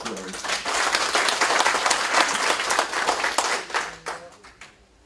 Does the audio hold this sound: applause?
yes